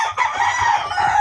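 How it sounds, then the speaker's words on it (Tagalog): Backyard chickens with a rooster crowing close by, one short loud crow with clucking around it. "Ayun, ang kanyang mga manok mga Sir Idol."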